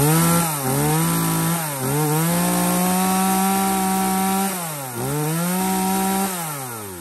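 A used Japanese household chainsaw with fuel primer and automatic choke, a Q12 model weighing about 5 kg, runs alone up close, its engine revving up and dropping back to idle several times in a steady pattern.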